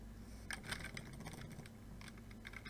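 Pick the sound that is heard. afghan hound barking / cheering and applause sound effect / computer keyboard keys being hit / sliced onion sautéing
computer keyboard keys being hit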